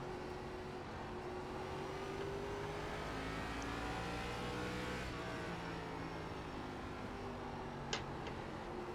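Race cars circling the track in the iRacing ARCA Menards sim, a steady engine drone with pitch sweeps as cars pass, constant and moderately loud with no talk.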